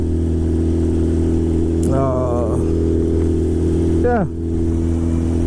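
A motorcycle's engine hums steadily at close range as the rider heads out toward Kintai Bridge. It revs up twice in rising sweeps over a constant drone, and a voice speaks briefly.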